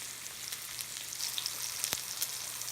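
A New York strip steak sears in a hot pan, a steady moderate sizzle with small crackles and one sharp pop, no voices.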